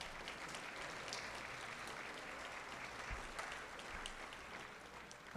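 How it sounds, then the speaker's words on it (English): Audience at an induction dinner applauds steadily for several seconds, a dense, even wash of clapping with no voices on top. "how about another round of applause for President Neeli Bendapudi?"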